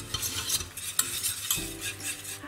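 A spoon stirs a vegan béchamel sauce with yeast flakes in a pot, giving a steady soft scraping and bubbling texture throughout, with no talk.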